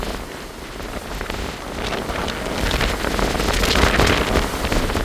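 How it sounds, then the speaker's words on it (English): Strong wind gusts roar across a mountainside at the midway base of the Castle, a loud, broadband rush that swells and buffets the microphone, growing stronger in the second half with no speech. "Now that's wind."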